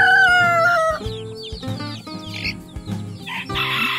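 A native chicken rooster crows loudly nearby, followed by clucking and calls from several chickens.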